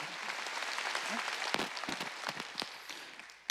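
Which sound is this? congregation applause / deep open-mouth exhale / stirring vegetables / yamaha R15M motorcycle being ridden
congregation applause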